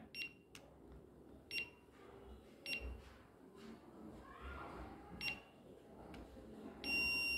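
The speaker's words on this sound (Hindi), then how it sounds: "ये लॉन्ग बीप आ गई दैट मीन्स कि आपकी फिंगर स्टोर हो गई" A ZKTeco X6/X7 biometric access control keypad gives short sharp beeps spaced about a second apart, then a longer beep at the end confirming a stored fingerprint, heard close over faint room noise.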